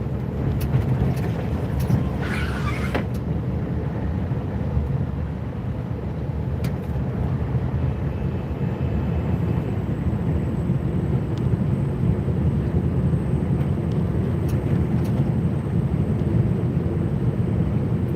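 A 600-horsepower snow plow works up a hill at full power, its deep engine roar holding steady and dense throughout with faint clanks now and then.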